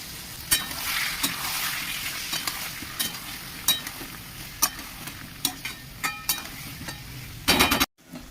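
Soybean curry fries and sizzles with spices in a pan under a steady hiss, punctuated by repeated sharp clinks and scrapes of a spatula stirring at irregular intervals, close up and without speech.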